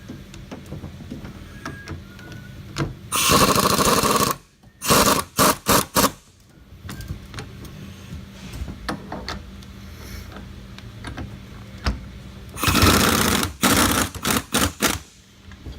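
Spring compressors being tightened on a strut from a 2014 Honda Civic Si, heard as loud bursts of rapid ratcheting or whirring, likely an impact tool, in two main clusters with short sharp taps between them.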